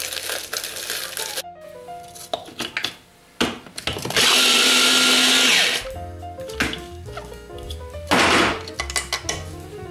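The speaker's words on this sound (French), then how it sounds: "Je vais terminer en les mixant de façon à avoir quelque chose d'uniforme." Electric blender grinding speculoos biscuits into uniform crumbs for a chocolate and passion fruit cheesecake base, loud whirring bursts separated by pauses, clattering and rattling of the container, close up without talk.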